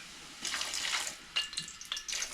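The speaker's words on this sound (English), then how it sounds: "I'm gonna go in with just a little bit of water." A little water is poured into a hot pot holding pork roast and cabbage, giving a soft splashing hiss and sizzle in short bursts at close range.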